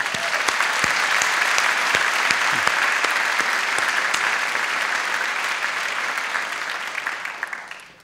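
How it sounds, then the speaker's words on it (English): A college audience at a State of the College event gives a round of applause for an honored guest, loud dense clapping sustained for about eight seconds before tapering off. "Can we give a round of applause for Gene?"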